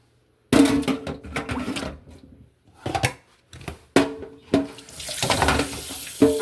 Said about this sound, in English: I like to rinse everything.